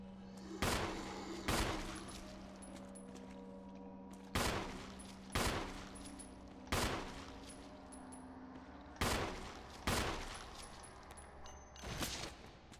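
Gunshots in the video game Resident Evil (2014), heavy booming shots in spaced pairs over a low steady hum, each ringing out with a decaying tail.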